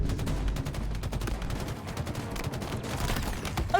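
A rapid volley of cannon-like blasts from a stream reward sound effect, dense booming reports rolling continuously and loud with no talking.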